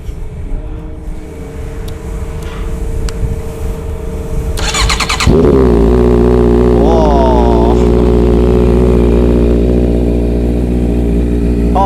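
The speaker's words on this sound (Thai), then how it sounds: "เดี๋ยวเรามาฟังเสียงท่อกัน" A Honda CB650F motorcycle with a carbon slip-on exhaust cranks and starts, then settles into a loud, throaty idle with a quick rev blip, heard up close.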